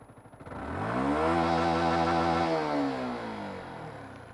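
A Yamaha YZF-R125 motorcycle engine with stock exhaust revs up to 10,000 rpm, a single close rising whine that holds high before easing back down.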